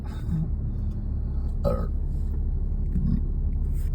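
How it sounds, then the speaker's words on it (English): A man gives a single short, low burp over a steady low engine-like rumble, close and moderately loud, with a few faint scattered noises around it. "Now, we got the burps a little bit."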